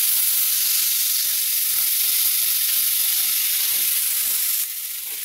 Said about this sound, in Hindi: अब इसमें हम इचना मछली डालेंगे फ्राई करने के लिए।